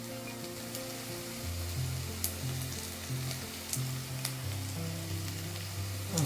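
Green chili and ginger paste sizzling in a frying pan while a millet dish cooks, a steady bubbling hiss with faint clinks and stirring, no talking.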